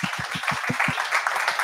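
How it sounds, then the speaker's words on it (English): A small meetup audience claps briefly for a speaker, with a few distinct claps at first that thin into a softer patter within moments. "Please, huge round of applause."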